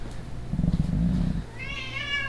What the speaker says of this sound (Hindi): ये पकड़ा गया है आखिरकार बिल्ली हमारी और जाएगी सीधा पिंजरे में